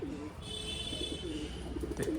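Pigeons at a loft coo in soft, low, continuous rolling calls close by, with faint background noise throughout.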